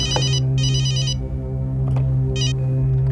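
A telephone rings in two long bursts and then a shorter third, loud and close over a steady low hum inside a home.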